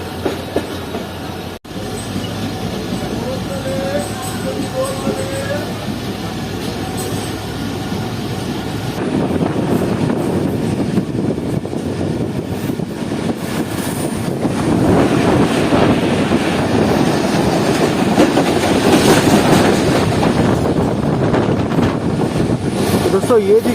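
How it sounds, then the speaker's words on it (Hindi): The Bolan Mail express train approaches on the down track, a rumbling rail roar with wheel clatter that grows steadily louder and nearer, heard with wind buffeting against the microphone and someone talking over it. "इस वक्त जो डाउन ट्रैक है उस पर भी एक ट्रेन आ रही है"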